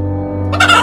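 A rooster's harsh call bursts out loud and close in the second half, cutting across a low steady hum.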